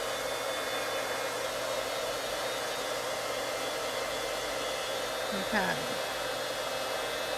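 A heat gun blows steadily as it melts white embossing powder for heat embossing on a card, making a constant breathy whoosh like a hair dryer, with one brief spoken word near the end.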